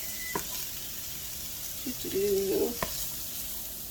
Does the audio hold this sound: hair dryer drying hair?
no